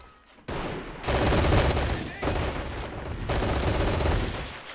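Sustained automatic gunfire in a Warsaw Uprising wartime shooter, loud and close, starting abruptly after a brief lull and rattling on in dense bursts with short gaps.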